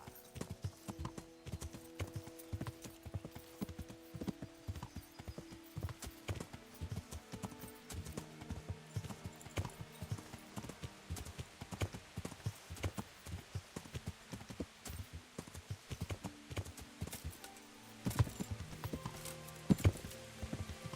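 Horse hooves clip-clop steadily on hard ground in the video game Kingdom Come: Deliverance, a continuous rhythmic trot heard close and clear over a sustained medieval musical backdrop, with no talking.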